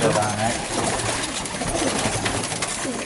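A Konyalı pigeon coos softly amid a noisy background of other birds and rustling, with people talking nearby.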